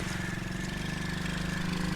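A quad bike engine runs with a steady, throbbing low rumble close by, its pulsing putter holding level without any clear revving.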